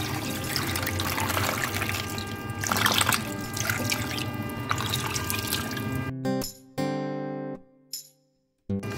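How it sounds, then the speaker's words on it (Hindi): Water poured into a pot over two whole chickens, about 3.5 kg: a steady, loud splashing pour that runs for several seconds, then cuts off and gives way to brief, clipped tonal hums. "अब इसमें मैं पानी डाल लूँगी, इतना पानी डालूँगी कि ये फिल हो जाए पूरा।"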